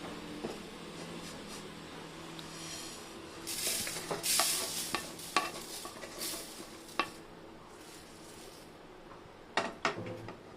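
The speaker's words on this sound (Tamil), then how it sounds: "பக்கத்துலேயே இருந்து இந்த மாதிரி கிளறி விட்டுட்டே இருக்கணும் இல்லைன்னா அடி பிடிச்சிடும் தீஞ்சிடும்" Rice dry-roasts in a pan and is stirred repeatedly, giving soft scraping strokes and scattered sharp pops over a faint, steady sizzle.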